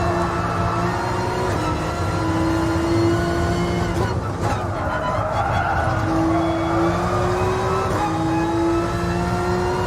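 Race cars in the Gran Turismo Sport video game, in a mission challenge: a steady, loud engine drone with shifting pitch and tire skid noise running throughout, with no talk over it.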